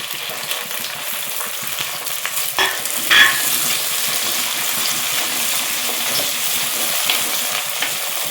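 Chopped small onions tipped into hot oil in a frying pan and stirred, a strong continuous sizzle with a splashy burst as they land and a light metallic clink, close and without talk.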